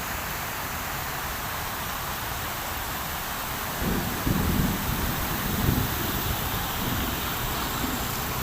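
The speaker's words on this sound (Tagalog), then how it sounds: "lakas kasi ng ulan" Heavy rain in the Philippines hisses steadily and densely on a flooded street, joined midway by low rumbling gusts, with no voices.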